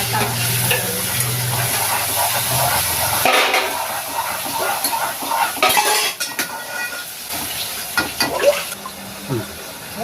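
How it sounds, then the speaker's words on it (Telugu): Dishes, pots and pans are washed by hand: metal and ceramic clatter and scrape close by in irregular bursts, over a continuous rushing hiss that drops back midway. "ఇదిగోండి గిన్నెలన్నీ కడిగేశాను"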